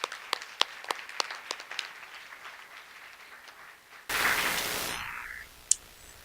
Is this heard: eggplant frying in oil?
no